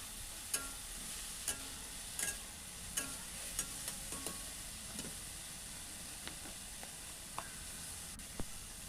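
Cluster beans sautéing in oil in a pan after salt is added, a low steady sizzle broken by sharp spatula scrapes and taps against the pan at irregular intervals, close and clear.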